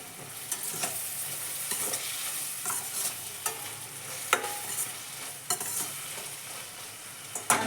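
Food fries in a pan with steady sizzling while a utensil stirs and scrapes in repeated irregular strokes, close and fairly loud, with no talking.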